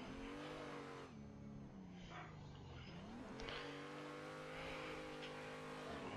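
A BMW E36 accelerates hard in third gear on a mountain touge road, the engine note climbing steadily, dipping briefly around a corner, then revving up again, close and loud throughout.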